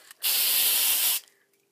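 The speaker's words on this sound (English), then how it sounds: "We got deodorant spray on." Deodorant spray released in a single loud, close hiss lasting about a second, starting and stopping abruptly, with no voices around it.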